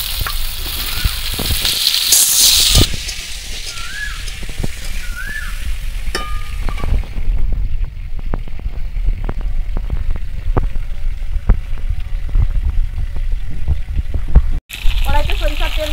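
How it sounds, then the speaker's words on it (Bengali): Boiled potato and jackfruit frying in white oil in a wok, a steady close sizzle running throughout with occasional clinks of a utensil against the pan. "সেদ্ধ করে রাখা আলু এঁচোড় ভেজে নেব একটু।"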